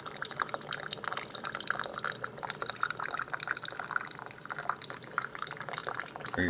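Hot water streams steadily from an Aquibear reverse-osmosis purifier with an instant boiling function, a soft continuous pour and trickle heard close up with no talking.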